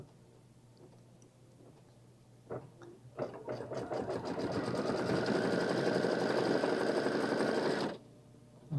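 A computerized embroidery sewing machine stitches chenille, starting with a few taps and then running in a steady, fast, buzzing whir for several seconds before stopping, close and fairly quiet.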